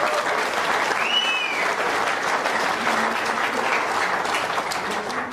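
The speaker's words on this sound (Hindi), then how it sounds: "विजय जी के लिए सबसे ज्यादा जोरदार तालियां," An indoor meeting audience applauds for Vijay ji in Goa, sustained dense clapping from a large crowd that holds steady for several seconds, with a faint voice and a brief whistle-like tone near the start.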